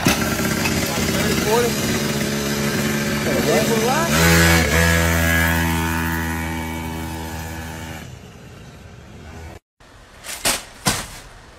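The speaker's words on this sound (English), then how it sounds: "What kind of bike is that? What is that, a mini Suzuki?" A mini Suzuki motorbike engine running nearby, a steady buzzing drone with rising revs, mixed with people talking over it before cutting out into brief noisy bursts.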